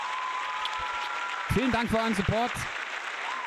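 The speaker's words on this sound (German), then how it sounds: "Erstmal Applaus für euch, liebe Kajoten." Brief applause runs under a streamer's talk during a Twitch stream of an UNO game, a steady background clatter of clapping beneath a clear, close voice.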